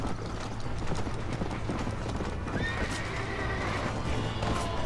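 Horse in the Red Dead Redemption video game, steady clip-clop of hooves with a clear neigh partway through, loud and close amid game ambience, no speech.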